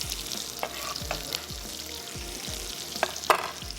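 Chopped onions hitting hot oil in a pan for a chana dal and bottle gourd dish, a soft steady sizzle with scraping stirs and a few clinks of a spoon against the pan, no talking.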